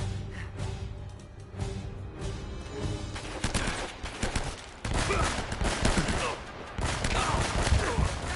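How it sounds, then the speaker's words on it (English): Shotgun blasts crack through a dense, chaotic firefight in Uncharted: Drake's Fortune, with repeated loud shots and other gunfire layered over constant action noise throughout. "Let me kill that guy with a shotgun"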